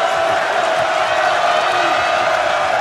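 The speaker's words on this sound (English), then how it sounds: "Crowd loves the defensive effort from the Nittany Lions as they recovered multiple times" Dense, loud roar of a basketball arena crowd cheering for the Penn State Nittany Lions' defense against Maryland, a steady wall of voices and whoops sustained without a break.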